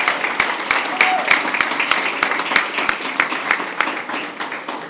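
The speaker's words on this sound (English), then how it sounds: "Please give a big round of applause to Young Women's Leadership Academy senior V" A crowd applauds steadily in a large room at a school board meeting, many hands clapping together at moderate volume, with a faint voice underneath.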